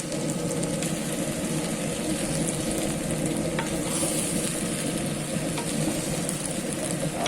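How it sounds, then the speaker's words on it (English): Carrots, green and red bell peppers, celery, basil and coriander leaves are stirred in a sizzling pan, giving a dense, even frying hiss with steady scraping and clinks close by, without speech. "Mix like this and allow it to cook again for 3 more minutes"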